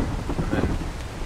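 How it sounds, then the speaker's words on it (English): Steady rain with a low rumble of thunder in the video game ARK: Survival Evolved, a dense, continuous wash of patter with no talk over it. "Let's get a roof because it's raining."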